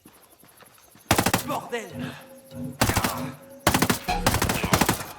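Automatic gunfire in the video game Ghost Recon Breakpoint comes in three loud, rapid bursts separated by short gaps, and a voice speaks between the shots.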